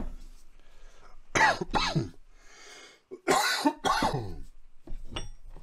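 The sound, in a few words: cough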